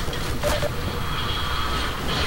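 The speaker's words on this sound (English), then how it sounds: "Keep running. There's a train." A train rumbles past in the video game RIOT-ACT, a loud, dense, close roar of rolling wheels and rattling carriages that fills the whole moment.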